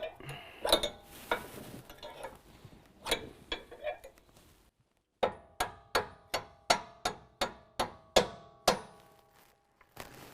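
A bolt is tapped into the suspension of a 2017 Ford F-250 Super Duty during a Superlift 6-inch 4-link lift kit install. After some scattered clanks, about ten sharp, evenly spaced metallic hammer taps ring out close and loud.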